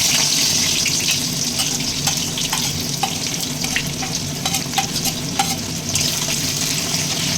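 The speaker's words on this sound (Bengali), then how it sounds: "পেঁয়াজটাকে একটু লাল লাল করে ভাজতে হবে।" Chopped onion frying in well-heated oil tempered with bay leaves, a strong, even sizzle close by with scattered popping crackles and occasional stirring.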